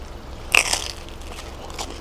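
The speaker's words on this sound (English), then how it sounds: "You hear that crunch?" A single sharp, close crunch as someone bites into a crispy pizza from Denino's Pizzeria and Tavern, a brief crackly burst standing alone over a quiet room background.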